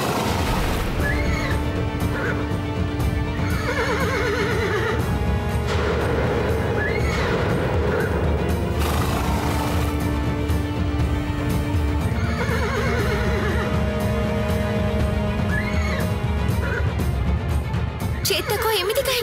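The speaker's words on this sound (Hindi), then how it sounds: "सेनापति महाशय प्रिय घोड़ा चेतक" A horse neighs and whinnies repeatedly in a TV drama scene, the calls rising over a dense bed of music and background sound, with someone speaking at points.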